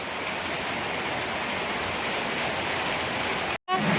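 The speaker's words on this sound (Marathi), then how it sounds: "बघा तिकडे सगळीकडे लय पाऊस आहे मोकार." Heavy rain pouring down outdoors in a rural Maharashtra farm setting, a steady dense hiss of falling water that carries on evenly and breaks off briefly near the end.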